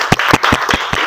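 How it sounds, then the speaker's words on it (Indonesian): Quick rhythmic clapping from a classroom of students applauding a student group after their presentation on exports, several hand claps in an even beat, close and moderately loud. "tepuk tanganlah untuk kelompok ekspor"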